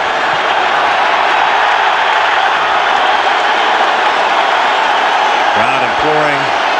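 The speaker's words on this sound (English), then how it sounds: "Crowd imploring the Dallas D to get with it" A football stadium crowd roars steadily and loudly, urging on the Dallas Cowboys defense during a game against the Detroit Lions in the 1990s; a voice cuts in briefly near the end.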